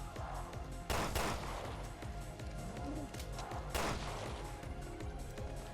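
Pistol shots in Resident Evil Revelations 2 raid mode, two loud sharp bangs about three seconds apart over a busy game soundscape with a rumbling background.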